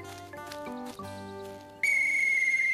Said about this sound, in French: Mon nouveau sifflet.